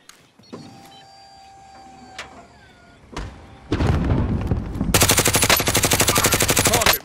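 Sentry guns opening up in Call of Duty: Modern Warfare, starting with scattered shots and clanks, then building into loud, rapid, sustained automatic fire that hammers on to the end.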